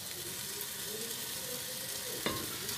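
Masala for a rice-cooker chicken biryani sautéing in a pan, an even close sizzle with a soft ringing hum, broken near the end by a single sharp scrape or knock of a spoon; no talking.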